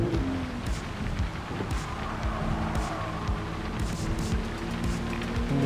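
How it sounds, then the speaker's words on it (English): Rain in the racing game Gran Turismo 7 hisses steadily while a 1997 Toyota Supra RZ drives a Tokyo highway, its engine drone and tire sounds running continuously under the downpour. "The rain's moving up and down."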